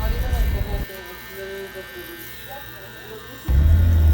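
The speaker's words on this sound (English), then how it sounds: "I slowly use the guard trimmer up and down to fully get the blade" Electric hair clippers buzz steadily while a guard trimmer is run up and down over the blade, loud at the start, dropping to a softer hum with a faint voice, then surging loud again.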